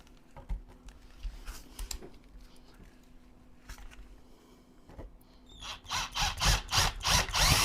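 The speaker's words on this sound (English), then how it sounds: "because I have 3-4 inches of foam and wood to get through, I need an extra long drill bit" An extra-long drill bit bores through several inches of foam and wood on a model railway layout, scattered knocks at first, then a run of loud, rhythmic grinding bursts toward the end.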